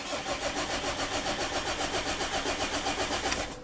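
A Mazda engine cranks and catches with its exhaust only partially connected, giving a loud, rough, rapidly pulsing chug that throbs evenly throughout at close range.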